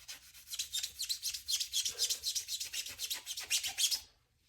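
Sponge scrubbing rust from a steel knife blade with Bar Keepers Friend, a close, rapid run of rhythmic rasping strokes that stops abruptly near the end.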